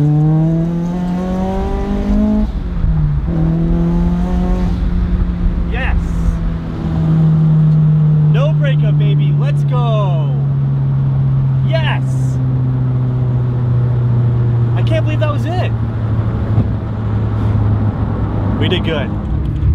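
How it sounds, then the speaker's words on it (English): A boosted Subaru BRZ pulling hard in third gear: a loud, sustained engine drone with a steady, slowly shifting pitch heard from inside the car, with brief voices over it. "All right, third gear pull."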